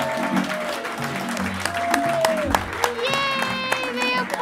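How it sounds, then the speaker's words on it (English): An audience at a live podcast taping applauds, a scattered clapping wash running under speech and voices with brief cheers, moderately close. "Yay, they applauded."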